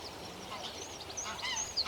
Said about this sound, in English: you can probably hear the geese flying overhead